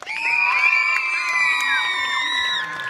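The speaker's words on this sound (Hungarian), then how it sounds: "Akkor Martinának kérek egy hatalmas sikítást!" A crowd of children at a kids' show lets out one loud, sustained scream on cue, shrill voices blending into a dense wall of sound that holds for a few seconds before tapering off.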